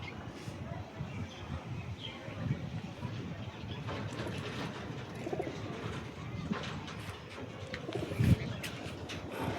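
Pigeons cooing close by in a loft, soft repeated low coos over a light background, with someone speaking intermittently.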